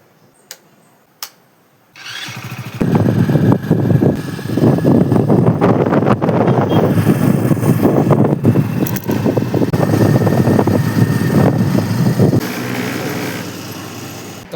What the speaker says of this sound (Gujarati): અને ભાઈ આ બાઈક હાંકું ને એક અલગ લાગે છે, કેમ કે હું આ બાઈક હાંકતો જ નહીં